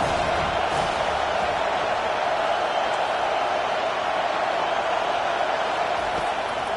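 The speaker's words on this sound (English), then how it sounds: "Decibels rising as the crowd gets behind this defense on third down." A football stadium crowd roars steadily on a third down, a dense, continuous wall of cheering and noise with no breaks, loud and distant-sounding.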